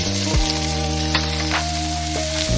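Batter for a Chinese pancake frying in a pot, a loud steady sizzle close by with a few sharp crackles and pops, alone with no talking.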